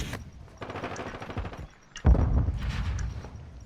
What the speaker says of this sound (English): huge shots from Aura there